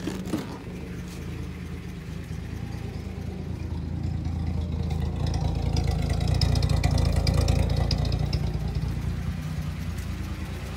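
A 1972 Datsun Cedric engine idles steadily nearby in a garage during warm-up without choke, its low rumble swelling slightly midway then settling, with a faint rattle on top and no talking.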